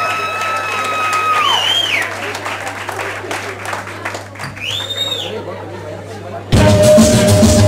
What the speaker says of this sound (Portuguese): Quero pedir também um fortes aplausos a Lara, Laia e Papagaio